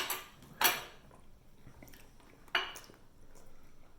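Fork and knife scraping and clinking against a plate while cutting a cheesy Bacino's pizza, two sharp clicks standing out over quiet handling noise, close and fairly soft.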